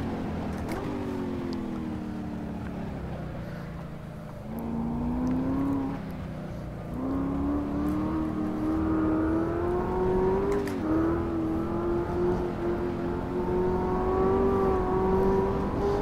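A Chevrolet Corvette ZR1 engine in a racing video game at Silverstone International, revving loud and close with a continuous, harmonically rich note that rises and falls through gear changes and throttle surges for the whole stretch, with no talking.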